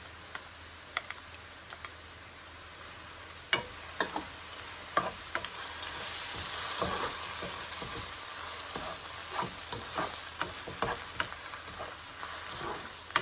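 Chopped onion frying with ginger garlic paste in a pan, a low continuous sizzle broken by scattered sharp clicks and taps of a stirring spoon, close and fairly quiet, with no voices.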